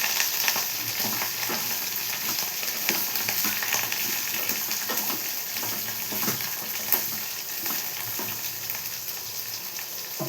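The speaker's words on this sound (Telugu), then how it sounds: "ఇవన్నీ కూడా బాగా వేగాలి." Spices and coriander seeds sizzle and crackle in a pan as they fry for a chutney, a steady close frying hiss with small pops and occasional stirring scrapes, no voices.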